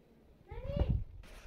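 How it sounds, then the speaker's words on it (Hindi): A cat gives one short, close meow with a rising then falling pitch, followed by a brief rustle. "अबे बिल्ली कहां से मियाओ कर रही है?"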